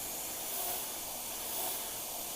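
An airbrush sprays bright red paint onto a cherry painting, giving a soft, continuous airy hiss that swells gently twice and stays faint.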